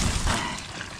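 Water is poured in a short, soft splash of about a second, an even wash with no voices.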